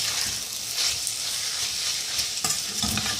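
Pasta being sautéed in a pan for a sweet winter dessert gives a steady close sizzle, with a couple of sharp stirring scrapes near the end.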